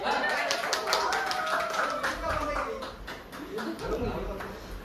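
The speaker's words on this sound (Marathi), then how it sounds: "अरे टाळ्या वाजवा रे" Office colleagues clap together at a New Year and Secret Santa party, a quick run of sharp claps that mixes with lively chatter and voices throughout.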